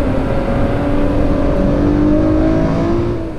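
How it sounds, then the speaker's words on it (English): A pre-production Ford GT race car driving on the Le Mans circuit on race day, its engine a loud, steady drone with rising harmonic tones as it accelerates, close and continuous throughout. "a pre-production Ford GT."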